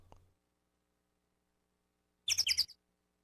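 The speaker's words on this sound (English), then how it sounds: "Have there always been bird noises here," Birdsong from the Ace Attorney Trilogy video game, heard as a short burst of several quick bright chirps after a faint tap and a long quiet gap.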